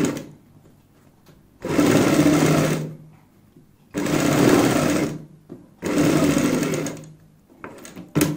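Sewing machine stitching a kurti neck, with the outer fabric folded over buckram; three sustained runs of close, steady motor whirring separated by quiet pauses, plus a short final burst.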